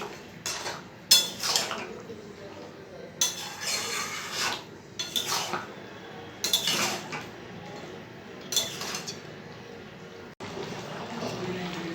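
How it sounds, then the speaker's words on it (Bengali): Chilli chicken gravy thickening in a pan as a metal spoon scrapes and clinks against it in repeated bursts, close by, with brief quiet gaps between strokes. "এটা দিয়ে দেওয়ার পরে দেখবেন এটা ঘন হয়ে আসছে, নাড়তে থাকবো।"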